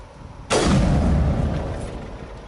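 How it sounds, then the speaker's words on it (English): A single loud, booming sniper rifle shot in the Mass Effect video game, a sudden crack that rolls into a long, slowly fading rumble, heard alone without speech. "That gives me an opportunity to try out the sniper rifle."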